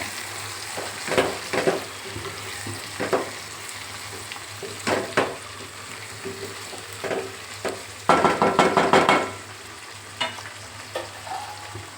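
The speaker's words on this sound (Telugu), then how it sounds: "ఇప్పుడు మనం ముందుగా నానబెట్టుకున్న ఉప్పు తుంపలను కూడా వేసేసుకుందాం వీటన్నిటిని బాగా మిక్స్ చేయాలి" Soaked salted dried meat pieces get stirred into browned onions and tomatoes in a hot pan, giving a continuous sizzle with repeated scraping bursts of a spoon, one longer vigorous mixing stretch.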